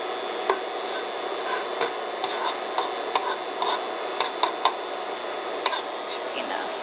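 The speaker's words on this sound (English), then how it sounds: "We'll put the butter." Butter melting in a hot pan for lobster cakes, with a steady soft sizzle and scattered clicks of a utensil stirring, close and fairly quiet, with no talking.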